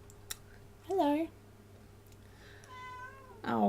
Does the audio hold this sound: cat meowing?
yes